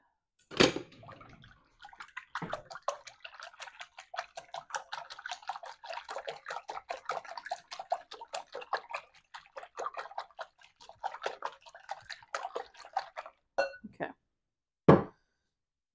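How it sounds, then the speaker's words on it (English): A whisk beats four eggs with a third cup of milk, salt and pepper in a bowl, making a steady run of quick rhythmic ticking strokes for about eleven seconds, with a few knocks against the bowl at the start and end. "We're going to whisk that up."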